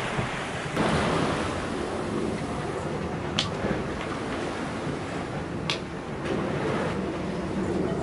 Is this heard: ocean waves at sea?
yes